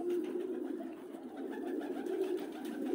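Soft, continuous low cooing from tumbler pigeons in a rooftop dovecote in Tbilisi, Georgia, a steady murmuring drone that swells and fades slightly across the few seconds, fairly close.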